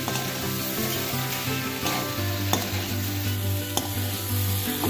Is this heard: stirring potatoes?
yes